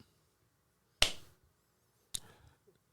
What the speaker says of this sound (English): I'm gonna give you the slow clap.